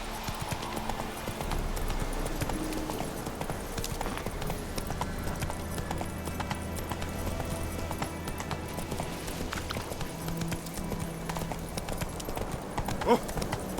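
Hooves of Roach, Geralt's horse in The Witcher 3, clip-clop in a steady rhythmic gait throughout, mid-distance and clear over ambient game sound, with a brief whinny-like note near the end.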